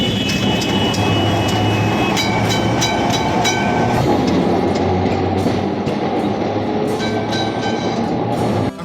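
A Kolkata tram running on its rails, with a loud, steady rolling rumble, metallic screeches and a rhythmic clack of the wheels over track joints, all close by and continuous.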